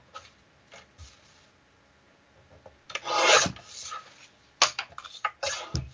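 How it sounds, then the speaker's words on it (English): Collage paper for a scrapbook layout being trimmed to size, with a few soft rasping strokes followed by louder scraping cuts and short rustling bursts close by. "I am going to cut, it's about 3/4 of an inch off one side, and then the rest of it off the other to get to the 4 by 4."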